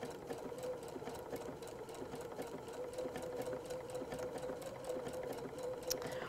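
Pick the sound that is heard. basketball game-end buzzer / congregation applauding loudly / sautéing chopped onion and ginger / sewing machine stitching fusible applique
sewing machine stitching fusible applique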